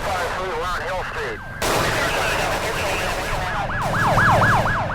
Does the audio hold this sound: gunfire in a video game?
yes